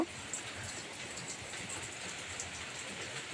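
Finely chopped onion fries lightly with black cumin in a pan, making a constant even sizzle that runs through the whole stretch with no breaks and no voices.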